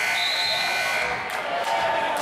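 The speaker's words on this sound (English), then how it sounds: "there's the buzzer for substitutions" A buzzer sounds to signal substitutions at a student-versus-faculty memorial basketball game, a sustained electronic tone over steady gym crowd noise.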